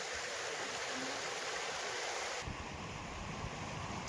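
Rainwater rushing across a farm after a heavy downpour, a continuous broad wash of flowing water that shifts to a slightly duller, lower-toned roar partway through, with no voices.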